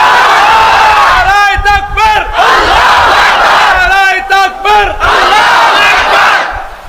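A large crowd chants takbir in loud unison, repeated rising shouts of Allahu Akbar at a religious sermon gathering, the calls swelling and overlapping in several waves.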